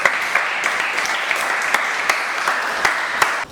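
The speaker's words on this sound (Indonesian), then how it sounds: "Tepuk tangan dulu buat Joel." Steady applause from a classroom group honoring a student named Joel, dense clapping with a few sharper claps standing out, continuous for several seconds before stopping abruptly.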